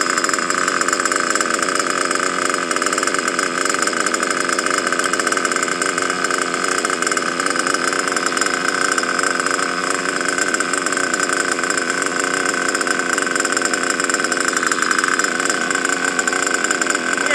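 A nitro engine idles loud and steady, holding a high, buzzy drone with only slight wavering throughout and no speech over it.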